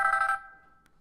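A telephone bell rings loudly once in a short burst and then cuts off, leaving a faint tail and quiet room sound, heard during a podcast conversation.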